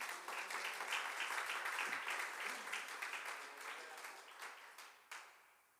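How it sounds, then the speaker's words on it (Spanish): Congregation giving a loud round of applause to the Lord during a bilingual sermon, a dense wash of many clapping hands that slowly fades, with a faint voice underneath. "Dele un fuerte aplauso, Señor,"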